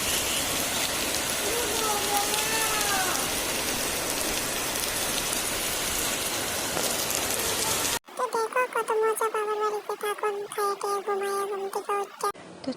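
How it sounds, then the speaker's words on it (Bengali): Heavy rain pours steadily during an afternoon thunderstorm, a dense continuous hiss on surfaces for most of the stretch, then the scene cuts to a quieter indoor moment with faint talk. "মানে বৃষ্টি বৃষ্টি হইতেছে।"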